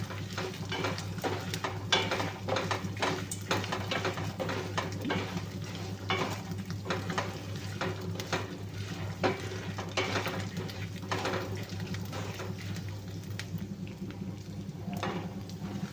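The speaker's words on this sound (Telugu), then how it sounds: "ఇలా మొత్తం అన్నీ బాగా ఫ్రై చేసుకోవాలి" Chilies and spices for a neem flower and drumstick leaf spice powder fry in a pan, giving a continuous low sizzle with constant rhythmic scraping and stirring of a utensil, close and moderately quiet.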